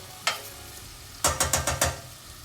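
Vegetables stirred in hot oil for a vegan bean soup: one early scrape, then a quick run of five loud, close stirring scrapes over a steady sizzle.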